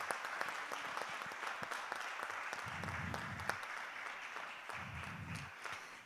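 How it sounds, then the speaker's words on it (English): Applause from an audience at an international education and diversity forum, a steady continuous patter of many hands clapping throughout, moderately loud and filling the room without speech. "Let's give them another round of applause"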